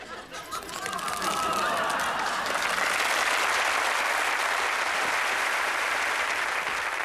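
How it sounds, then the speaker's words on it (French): A theatre audience applauds a comedian on stage at a Benny Hill show, the clapping swelling within a second into a full, sustained roar with faint chatter and a few chuckles mixed in. "Vos applaudissements sont une nourriture pour moi."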